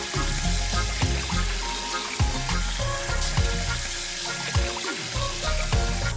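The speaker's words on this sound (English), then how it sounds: "This is gonna fill with 2 gallons of water." Tap water pours steadily into a bucket for turkey brine, a loud, continuous rushing and splashing fill with no talk.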